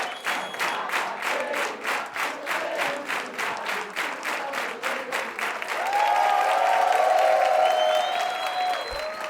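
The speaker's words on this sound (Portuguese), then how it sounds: "uma salva de palmas aí" An audience at a theatre tribute event breaks into rhythmic clapping and cheers, the beats steady and moderately loud, swelling into a broader roar of applause with voices partway through.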